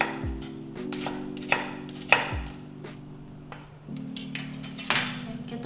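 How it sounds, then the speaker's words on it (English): A kitchen knife rough-chops an onion on a cutting board, sounding as a few sharp, close thuds spaced irregularly over a low steady hum from a nearby appliance. "I'm just gonna rough chop him"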